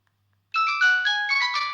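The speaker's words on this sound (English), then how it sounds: "select caller ringtone" A Nokia 110 4G phone plays its caller ringtone after a brief silence, a bright melodic electronic tune of stepped tones, clear and close with nothing else audible.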